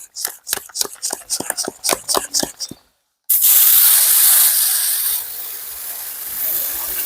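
A series of sharp knocks, then a pressurised foam sprayer for washing a car bursts on with a loud, continuous hiss that eases slightly but keeps spraying.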